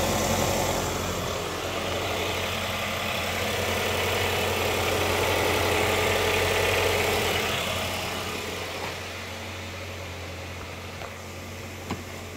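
A 1.5-liter Ford Fusion car engine idles steadily at close range, a constant low rumble with a faint hum, holding even for most of the stretch before easing slightly near the end.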